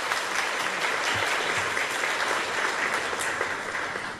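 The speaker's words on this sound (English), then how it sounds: "Let's give him a big round of applause." An audience at the 17th Polestar Awards ceremony gives a speaker a warm round of applause, a thick, continuous roar of clapping that holds steady and begins to fade at the very end.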